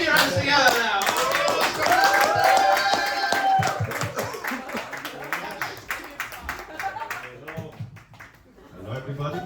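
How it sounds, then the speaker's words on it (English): Audience clapping at a stand-up comedy show, a burst of hand claps that thins out over several seconds while a voice talks over it. "Round of applause! Come on, put your hands together now."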